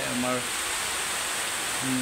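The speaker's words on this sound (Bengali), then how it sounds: "প্রচুর বৃষ্টি, আসলে মুষলধারে বৃষ্টি হচ্ছে" Heavy rain pouring down in a steady, dense roar, with a brief voice at the start and end.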